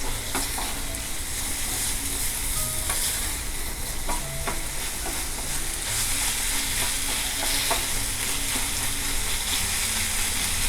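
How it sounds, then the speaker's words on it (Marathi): Tomatoes sauté with salt in a pan for chicken keema over raised heat, a steady close sizzle and hiss with scattered spoon scrapes and stirring clinks throughout. "आता आपण व्यवस्थित टोमॅटो परतूया"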